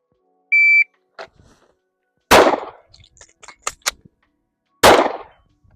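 Sharp gunshots ring out during a one-reload pistol shooting drill: a beep starts it, then two loud cracks a few seconds apart with scattered clinks and small clatters between them, close and outdoors.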